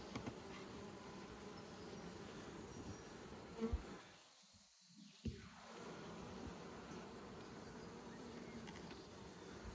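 Honey bees buzz steadily around the frames of a nucleus hive outdoors in good conditions, a dense continuous insect hum with a brief dip in the middle and a few light knocks.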